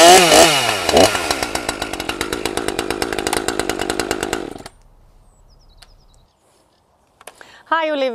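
A Husqvarna T540 XP Mark III chainsaw engine pulled to start and running, a loud, close two-stroke buzz with revving surges for several seconds, then cutting out to quiet before a voice speaks.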